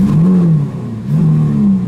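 A 2017 Lamborghini Aventador S engine revs loud and close with a deep exhaust note, rising and falling twice as the throttle is blipped, with no talking over it.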